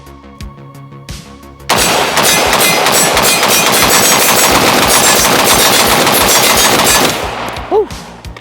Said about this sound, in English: I'm going to attempt to slowly start increasing my rate of fire from 1 to 30 and try to keep everything on that plate